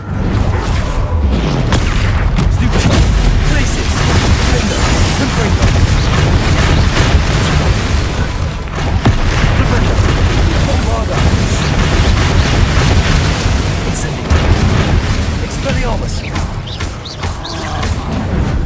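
A Bombarda spell explosion in the Hogwarts Legacy video game sets off a sustained, loud roar of booming blasts and crashing debris. It runs dense and continuous throughout, with heavy low rumble and repeated impacts.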